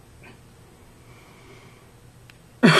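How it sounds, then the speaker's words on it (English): A single harsh dry cough bursts out at the end, loud and close, after a stretch of quiet breathing. "Just have a dry cough"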